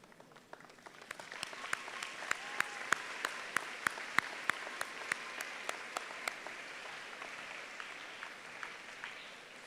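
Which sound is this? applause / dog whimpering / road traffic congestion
applause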